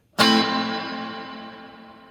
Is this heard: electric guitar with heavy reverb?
yes